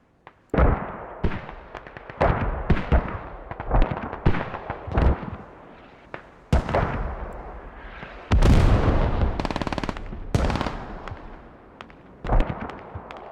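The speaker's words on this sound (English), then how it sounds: "I wonder if it's the mortars doing it." Mortar rounds and explosions in a competitive Squad match, a series of loud booming impacts and blasts, some near and sharp, others rumbling and distant, in irregular bursts with no talking.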